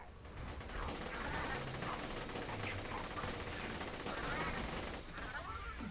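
The Lead Storm gun in Borderlands 2 fires sustained rapid bursts, a dense clatter of gunfire running for about six seconds with game effects around it and no clear speech.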